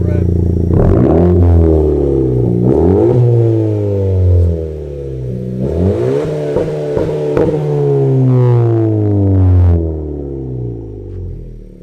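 A Honda Civic Si fitted with a race exhaust revs repeatedly, its loud rasping engine note sweeping up and falling back in several distinct blips close by, with brief clatter between pulls.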